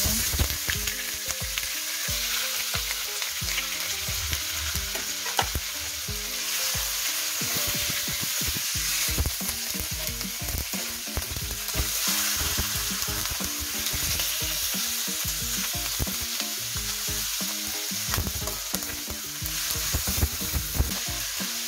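Pork meat sautéing in a pan for ginisang gulay, a steady loud sizzle with crackling pops and occasional stirring scrapes throughout.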